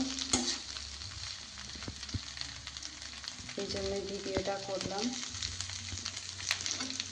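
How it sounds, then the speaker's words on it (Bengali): A quiet, steady sizzle of leftover rice frying in a pan, with scraping from stirring and a brief spoken remark partway through. "এভাবে ভাতটি ভাজা করে খাবেন"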